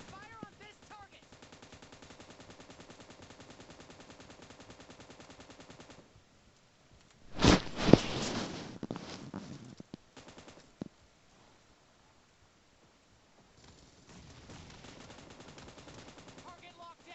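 Video game gunfire comes in a short, loud burst of cracking shots with echoing tails, surrounded by quieter stretches of game ambience and a speaking voice.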